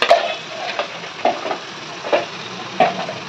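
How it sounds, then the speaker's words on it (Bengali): Onions frying briefly in a pan with tempered spices for a Bengali home dish, a soft sizzle punctuated by four or five sharp spatula scrapes and knocks at a slow irregular rhythm, close by, no speech. "এই যে পেঁয়াজটা আমার ভাজা হবে, বেশি ভাজবো না, অল্প একটু ভাজলেই হবে।"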